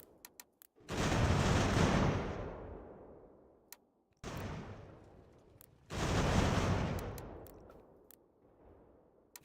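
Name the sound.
musket and artillery fire in the video game Ultimate General: American Revolution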